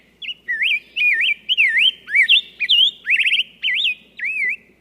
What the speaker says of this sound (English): attracting beauties like this rose-breasted grosbeak